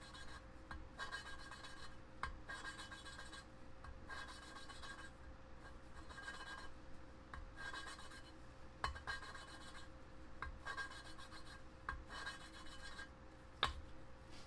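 Valves being hand-lapped into a Mitsubishi 4G63T turbo cylinder head make a steady, gritty rasping scrape, repeated in regular back-and-forth bursts at close range, with no talking.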